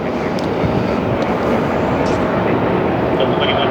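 An airliner rolls for takeoff on LAX runway 24 left, heard as a loud, steady broadband roar with a faint high whine riding over it and no pause.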